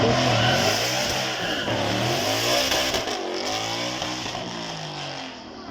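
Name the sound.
loud supercar engine during demonstration run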